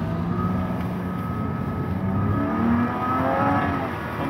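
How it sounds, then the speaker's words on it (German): A Porsche sports car engine drones and builds as it accelerates, a steady, fairly loud rumble with rising tones, no voices. "Ich will das Porsche-Feeling spüren und hören von dir."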